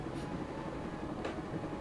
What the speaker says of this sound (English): I'd always wanted to stop the train.